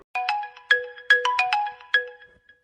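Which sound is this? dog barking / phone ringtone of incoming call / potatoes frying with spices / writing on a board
phone ringtone of incoming call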